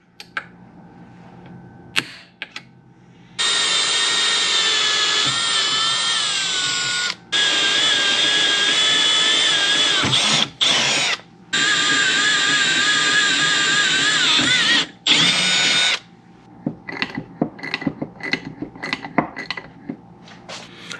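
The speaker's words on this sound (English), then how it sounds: "we went ahead and drilled and tapped the holes for the nozzles" A power drill bores holes for water/methanol injection nozzles in a car upgrade, its whining motor running in long, loud bursts of several seconds with brief pauses, followed by scattered metallic tool clinks.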